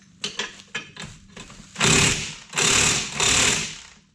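An impact wrench on the rear end bolts of a 1999–2004 Jeep Grand Cherokee fires several short stuttering bursts, then three longer loud hammering runs, close up and alone.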